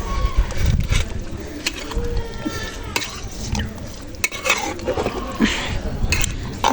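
Eid meat curry is stirred in a pot on a rooftop, with scraping and clinking of a utensil against the pot over a light sizzle, irregular and close, with some voices and background noise.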